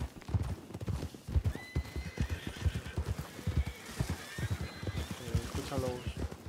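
Horse hooves clip-clop in a steady rhythm while a horse neighs and whinnies in Red Dead Redemption II, with a person talking in Spanish over the sounds.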